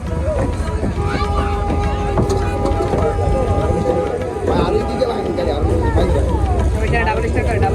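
Aboard a boat on the Nikli haor, a steady engine drone and water rush run throughout, with people talking and background voices over it.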